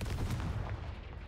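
Confringo blasting curse striking rocks in Hogwarts Legacy: a short, loud, crackling burst of explosive noise with heavy low rumble that fades over about a second.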